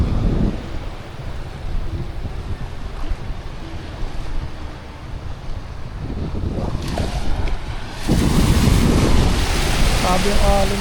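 Ocean waves break at a provincial shore in a steady, rushing wash, heavy with wind noise on the microphone, and the surf swells louder near the end.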